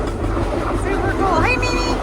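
A passenger train on an Alaska rail journey rolls along with a steady, loud low rumble and rattle, while faint high squeals of the wheels rise and fall over it.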